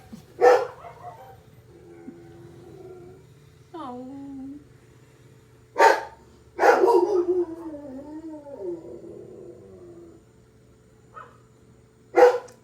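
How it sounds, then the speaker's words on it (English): A dog barks several times with gaps between, some barks sharp and some trailing into whines. A person briefly speaks. "Now my dog's going to start barking too."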